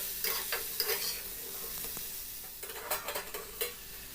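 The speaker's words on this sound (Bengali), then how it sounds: "এবার পুঁই ডাঁটাগুলো আমি ওর মধ্যে দিয়ে দিলাম।" Malabar spinach stalks fry in a pan for a Bengali curry, giving a steady sizzle broken by scraping, clattering stirs against the pan, near and without talk.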